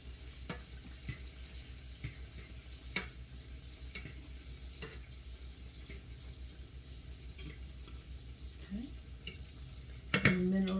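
Spicy chicken tenders coated in flour fry in hot grease with a steady, even sizzle. The bubbling holds throughout, broken by a few faint clicks and a brief clatter near the end.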